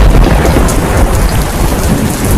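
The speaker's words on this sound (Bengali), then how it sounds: "আল্লাহর বৃষ্টি, সকালে বৃষ্টি," Rain pours hard and thunder rumbles in a cartoon storm, a loud dense wash of downpour over deep rolling low booms, continuous and close with no voices.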